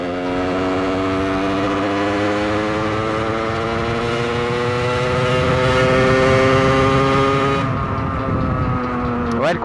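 A 50cc supermoto motorcycle engine revs steadily and high-pitched, holding a droning whine that climbs slightly before cutting off near the end.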